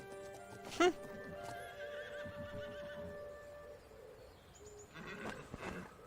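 Horses on a journey through a ruined city in the game Masquerada: Songs and Shadows neigh in one sharp, loud whinny early on, with clip-clopping hooves running steadily throughout and softer neighs near the end.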